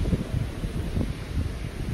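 Strong wind on a remote island beach buffeting the microphone with a low, rumbling roar that surges and fades in gusts, no voices present.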